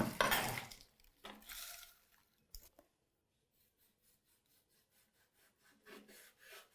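A knife scrapes and slices through soft, greasy pork fat in a few short rasping strokes, followed by quieter, rhythmic cutting sounds near a board.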